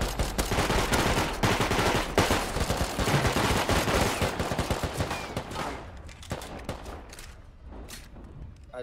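Rapid bursts of AK rifle fire in the video game Rust, fighting in train tunnels, dense and loud at first, then thinning into sparser, more distant shots, with a voice talking faintly underneath.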